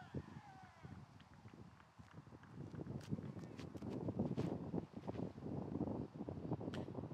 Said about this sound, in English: you can hear just how much the wind is ripping